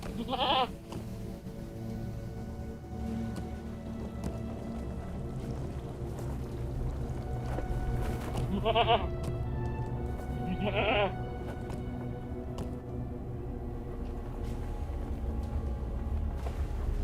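Goat bleats from a stable master's mount in the fantasy game Lord of the Rings Online, three short wavering calls spaced apart over steady game ambience and a low background bed.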